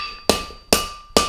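Three evenly spaced, sharp hammer blows ring out on an anvil as a metal branch is forged down, each strike loud and close with a bright metallic ring that fades before the next.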